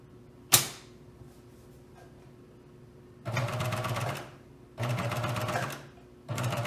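A sewing machine topstitches a seam on a garment in three steady running bursts, each lasting about a second, with short pauses between them and a single sharp click near the start.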